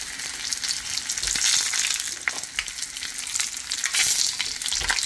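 Nopales, cactus paddles, sizzle and crackle steadily in a hot pan, a dense bright frying hiss with a few soft scrapes and pops, no voices.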